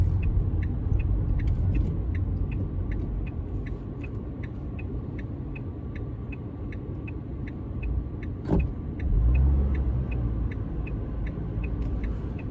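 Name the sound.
18-year-old car engine revving high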